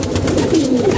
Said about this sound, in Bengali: কবুতর যখন ফুর্তিতে থাকে অবশ্যই কবুতর ডাকাডাকি করে